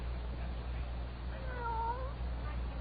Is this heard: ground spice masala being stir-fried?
no